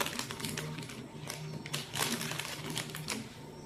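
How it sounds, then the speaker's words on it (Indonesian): Clear plastic is punched with holes for a school physics spring-arrangement experiment, giving a dense stream of close, crackling taps and clicks that continue steadily with no pauses. "selanjutnya kita akan melubangi plastik beningnya"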